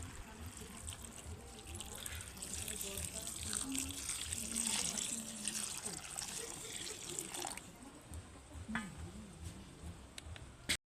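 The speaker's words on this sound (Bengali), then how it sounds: "চালটা সেদ্ধ হওয়ার জন্য আমি দিয়ে দেব কিছুটা জল" Water is poured steadily into a kadai of rice set to boil, a continuous close splashing trickle that fades off toward the end.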